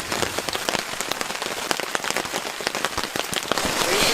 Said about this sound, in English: It was not supposed to be raining this much.